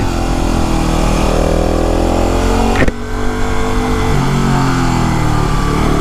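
A motorcycle engine is ridden along a winding mountain road, droning loud and close with a steady hum. There is a brief sharp knock near the middle, and the pitch settles slightly lower afterward.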